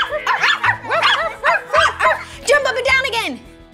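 A person mimics a dog, giving a quick run of yappy, bark-like yips close to the mic, loud and rhythmic over a few seconds, as part of a children's game.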